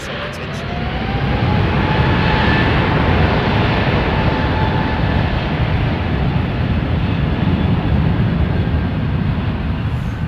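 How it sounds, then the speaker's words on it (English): A British Airways A380 airliner passes over near Heathrow Airport, a loud sustained roar with a slowly shifting engine whine that swells and holds across the whole stretch. "BA 380 just got over my house"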